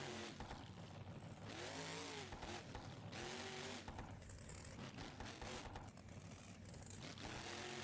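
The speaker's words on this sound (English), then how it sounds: "The amount of backfire on this truck is just insane." A monster truck in a BeamNG video game arena roars and revs hard, its engine note rising and falling with rough crackling pops, loud and continuous throughout.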